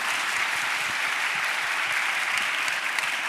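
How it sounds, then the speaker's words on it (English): An audience at the 2024 Decatur Book Festival claps after a contemporary romance author panel, producing a dense, even wash of applause that holds steady and fairly loud throughout, with no voices over it. "let's give them a round of applause"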